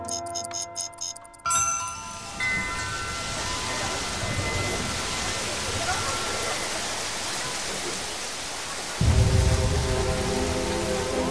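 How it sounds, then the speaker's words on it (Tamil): Steady heavy rain falls in a broad continuous wash throughout, with brief tonal sounds at the start and a louder low burst near the end. "இப்படி ஒரு மழை"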